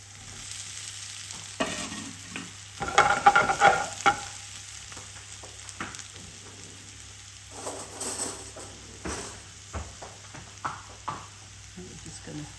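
Potatoes stirred into cooked onions in a pan just after the gas is turned off: soft scraping and stirring with faint sizzle, bursts of clatter around the start and later, close and fairly quiet with no talk.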